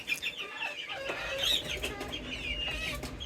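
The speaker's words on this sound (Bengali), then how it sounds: "এই যে এইখানে একটা মুরগ" A desi rooster clucks several times in quick, uneven bursts, close by and fairly loud, with some rustling and fluttering from the fowl around it and no one talking.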